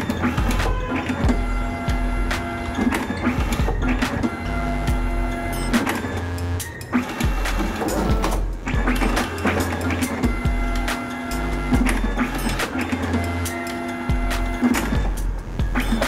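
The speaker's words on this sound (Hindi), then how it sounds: "देख सकते हैं प्रिंट हो रहा है प्रॉपर तरीके से।" Zebra ZXP Series 3 card printer printing after a full cleaning: steady, loud mechanical whirring and clattering from motors and rollers, with rhythmic passes and short pauses, running continuously with no talking.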